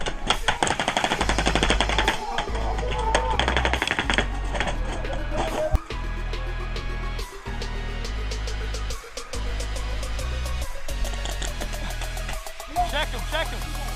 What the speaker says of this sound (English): all we can hear is gunfire because the whole bottom floor is filled with the enemy